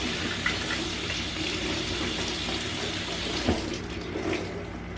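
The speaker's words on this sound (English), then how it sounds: "I'm just gonna run some water over it." Tap water runs steadily over a makeup sponge at a bathroom sink, a continuous close splashing hiss with a brief louder splash near the end.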